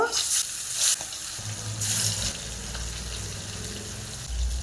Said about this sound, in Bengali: পাঁচ ফোড়ন দিয়ে তেলের মধ্যে মাছগুলো দিয়ে ভেজে তুলে নেব